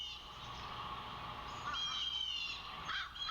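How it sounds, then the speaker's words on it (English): Outdoor birds call with a few faint, distant raspy caws and chirps over quiet background hiss, with no talking. "You hear these birds?"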